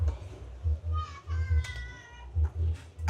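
Cat meowing on a street during feeding of homeless dogs and cats, a few short cries in the middle of the clip over a steady low hum and background voices.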